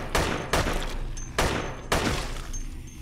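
Four loud, close gunshots from the video game Dead Effect ring out at uneven intervals, each a sharp blast with a brief decaying tail.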